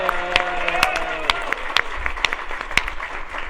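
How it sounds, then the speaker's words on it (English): An audience claps steadily, the sharp hand claps blending into a dense patter, with a voice briefly audible at the start. "So let us please give a round of applause to Peter for helping put this all together."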